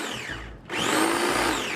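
A mini food chopper whirs as it grinds garlic and herbs into a paste, a loud, close motor whine that dips briefly, then surges back up and holds steady, with no talking.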